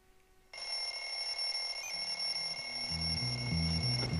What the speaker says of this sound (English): that alarm is the most horrible noise ever